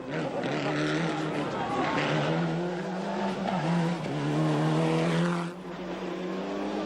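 A 1995 Mitsubishi Lancer rally car's engine revs hard and drones close by, with tire noise as it spins out on tarmac during a World Rally Championship stage, while a commentator speaks over it.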